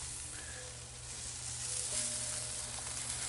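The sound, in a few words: broccoli and onions sizzling in a Lodge Cook It All wok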